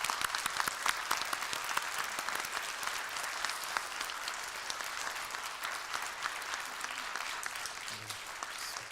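Steady applause from a church congregation at an ordination service fills the whole stretch, even and sustained without any break.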